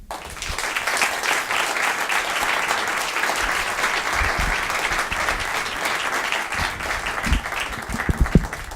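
Steady audience applause fills the hall after a speaker's remarks on teaching young Native people basketry, loud and sustained for the whole stretch, with a few sharper bumps near the end.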